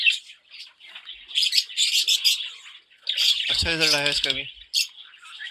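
Fischer's lovebirds in a breeding cage give bright, scattered chirps and squawks close by, mixed with someone speaking partway through.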